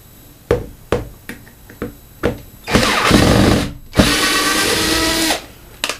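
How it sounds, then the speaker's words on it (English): Power tool or screwdriver working a screw out of a radiator wall bracket: several short bursts followed by two longer sustained whirring runs, close and fairly loud. "So what we need to do is to first of all remove one of the screws."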